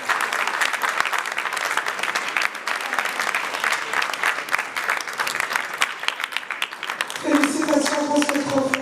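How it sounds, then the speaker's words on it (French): Sustained, lively audience applause at an award ceremony in Brazzaville, steady and full for most of the stretch before music and voices come in near the end. "On applaudit Madame Danielle"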